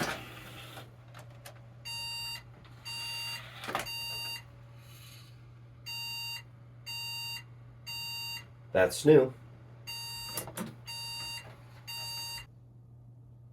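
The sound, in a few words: computer motherboard POST beep code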